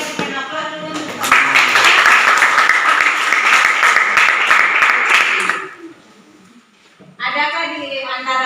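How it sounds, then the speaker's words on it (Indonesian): A classroom of pupils breaks into loud, sustained clapping lasting several seconds, then it fades out and a voice speaks. "Kita berikan aplaus dulu untuk"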